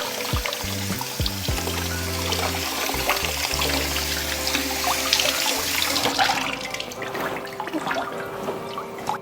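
Tap water runs steadily into a sink while ginger is rinsed under it, with splashing and gurgling shifts and some clatter near the start. It is close and fairly loud, with no talking.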